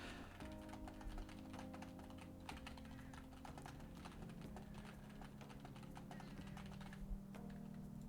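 Rapid clicking keystrokes on a computer keyboard during a Persona 5 Royal session, a steady flurry of close taps layered over continuous background game music.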